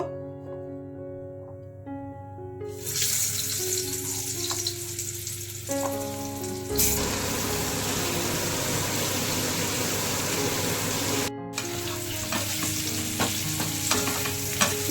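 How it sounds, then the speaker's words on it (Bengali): Potatoes sizzle steadily in hot oil while being fried until reddish-brown for a Bengali alur dom, a dense, constant crackle that swells after a few seconds and continues loud and close, with faint tonal music underneath. "তেল গরম হয়ে গেছে, এবার আলুগুলোকে লাল লাল করে ভেজে নেব"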